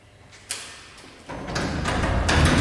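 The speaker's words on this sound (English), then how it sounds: "And now let's try with the garage door." Garage door triggered through a PandwaRF rolling code attack run from a smartphone: a sharp click, then a steady mechanical rumble that builds and grows louder.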